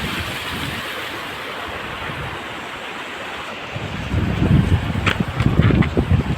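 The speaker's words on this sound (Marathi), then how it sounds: "पाऊस तर खूप उठलाय" Heavy monsoon rain pours outdoors near a bridge in a dense, steady roar, turning rougher and louder partway through as wind buffets the microphone.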